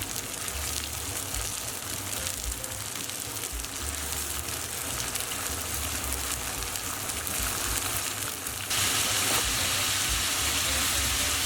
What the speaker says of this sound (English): all we want to do is fry our chicken for about 4 to 5 minutes on all sides